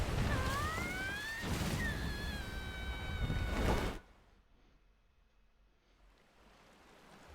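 Palico cat companion in Monster Hunter World giving a few rising, tonal meows over a wash of ambient game noise, clear and close, then cutting off abruptly into near quiet.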